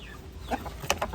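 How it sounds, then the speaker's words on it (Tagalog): A few short clucks from chickens sound nearby over a faint background hum, brief and sparse. "Tapos, yan mga manok."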